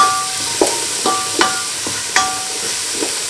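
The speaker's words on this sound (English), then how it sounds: "You can hear that sizzle. My vegetables are cooking well. The pan is hot nicely." Vegetables fry in a hot pan before red bell pepper and a mild chili pepper go in, a steady close sizzle broken by several sharp clicks and scrapes of stirring.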